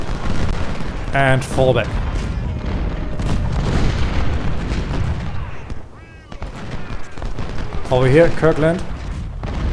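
Musket volleys and booming artillery fire in the Civil War strategy game Ultimate General: Civil War at the Battle of Malvern Hill, a steady rumble of distant cannon and gunfire with commands spoken over it.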